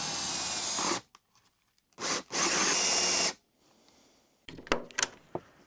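A power drill boring holes into a building facade during renovation, two loud grinding bursts with a brief pause between them, followed by quieter scraping and a few sharp knocks.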